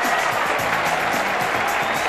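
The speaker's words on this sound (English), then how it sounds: "a standing ovation from the crowd here at the Gabba" Applause from a cricket crowd at the Gabba in Brisbane, a standing ovation for batsman David Boon during a Test match against New Zealand, heard as a steady, dense wash of clapping with no break.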